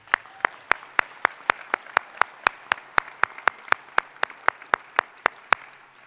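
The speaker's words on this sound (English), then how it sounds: "Let's give all of our graduates a round of applause." Graduation-ceremony audience clapping for the graduates, heard as a single steady, evenly paced run of crisp claps close by, continuing for several seconds with no talk.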